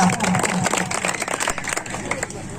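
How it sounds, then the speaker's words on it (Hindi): Applause and clapping from the audience at a village drama performance, a spread of crowded hand claps mixed with talk over a loudspeaker. "जोरदार ताली लगाइएगा भैया।"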